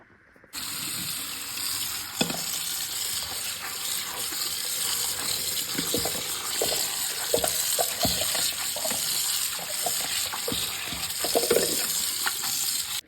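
Red amaranth greens washed under a running kitchen tap, a steady continuous stream of water with scattered splashes and light handling clatter throughout, fairly close and without talk.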